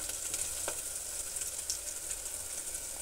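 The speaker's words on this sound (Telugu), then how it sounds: "ఇదైతే బాగా ఎర్రగా వేగాలి ఫ్రెండ్స్" Curry leaves and dried chillies fry in hot oil in a pan, a constant bright sizzling hiss with a few small pops and faint stirring sounds, close and without speech.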